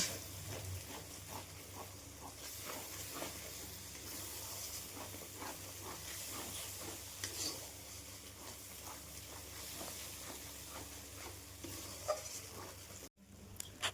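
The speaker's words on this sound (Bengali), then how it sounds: "দিয়ে এবার তেল না ছাড়া পর্যন্ত এই মশলাটাকে বেশ ভালো করে কষিয়ে নেব" Spice paste with salt and turmeric sautés in oil for a Bengali vegetarian navratan mixed-vegetable dish, a soft low sizzling hiss broken by scattered scraping stirs and a brief clatter near the end.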